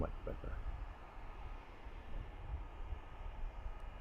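Airplane engine in Microsoft Flight Simulator 2020, a steady, low droning roar that holds evenly throughout with faint talk over it.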